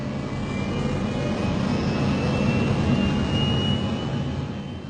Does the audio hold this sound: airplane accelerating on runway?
yes